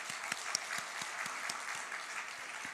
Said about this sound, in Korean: 오늘 우리 90 여선교회를 위해서 크게 좀 격려의 박수 좀 해주십시다